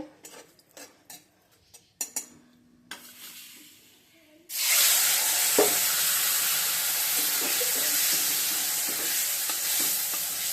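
Food frying slowly in a pan until crispy, a loud steady sizzle rising abruptly after a few soft clinks and taps, then hissing continuously close up with occasional stirring knocks.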